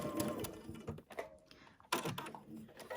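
A sewing machine stitching a quarter-inch seam while piecing a quilt, a quiet whirring run of stitches in short bursts with a brief pause in between.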